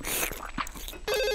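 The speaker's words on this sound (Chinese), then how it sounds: "谁呀？ 一大早打我电话。" A cartoon mobile phone rings with an incoming call, a bright electronic ringtone that plays loud and close, breaking off briefly and then resuming as a steady tonal melody.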